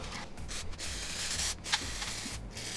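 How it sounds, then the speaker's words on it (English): Electric contact cleaner sprayed from an aerosol can onto a phone body shell, several short close hissing bursts separated by brief pauses, loud and alone without talking. "Now I'm going to use a electric contact cleaner"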